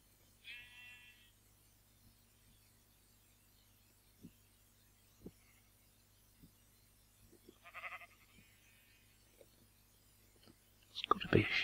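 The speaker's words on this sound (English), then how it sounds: "Yeah, those are the sheep sounds." Minecraft sheep give a couple of faint, short bleats, scattered with soft ticking footsteps, and a louder clatter comes at the very end.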